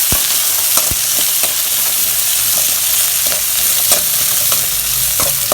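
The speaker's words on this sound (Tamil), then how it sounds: "சின்ன வெங்காயம் கட் பண்ணி வச்சுருக்கேன் கொஞ்சம் பொடிசாக கட் பண்ணியிருக்கேன் அதையும் போட்டுக்கலாம் நல்லா வதக்கிக்கலாம்" Finely chopped small onions sautéing with dried anchovies for a karuvadu thokku, a loud, steady sizzle broken by repeated sharp clicks and scrapes of a spoon stirring the pan, with no talk.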